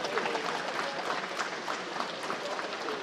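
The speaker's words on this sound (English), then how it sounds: "Yes, an applause." A crowd at a FIBA AmeriCup pre-qualifier basketball event in Suriname applauds in a continuous, moderately distant patter of clapping under a faint murmur of voices.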